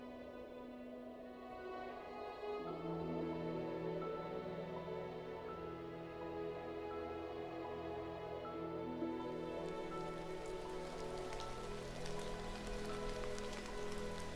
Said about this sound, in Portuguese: Chove durante vários dias neste maciço de serras calcárias.